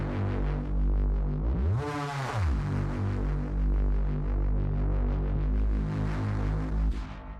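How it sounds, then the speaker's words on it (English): A Reese bass synth with heavy distortion and compression drones low and thick throughout, with a sweeping resonant filter movement near the start and a rough, throbbing, detuned texture. "Yeah, then you get the sound of this Reese."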